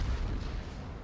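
A battlecruiser's main-gun salvo in World of Warships, heard as a single heavy, booming blast with a rumbling tail that carries through the whole brief moment.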